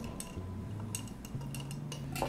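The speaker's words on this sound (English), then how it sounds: "Give that a little stir." A Seabreeze cocktail is stirred with a utensil in a glass, giving a few light, scattered clinks and taps close by over a soft background hum.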